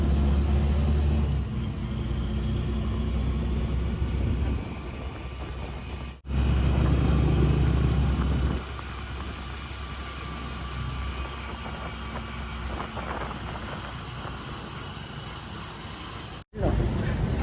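A motorized tricycle ride in Montalban, Rizal: a steady low engine rumble and road noise run throughout, swelling louder at moments, with two brief cutouts and occasional voices underneath.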